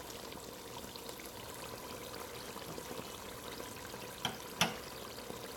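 Shrimp and fish powder being stirred into shito, a Ghanaian black hot chili sauce frying in a pot, with a soft, steady sizzling hiss and two sharp spoon clicks near the end.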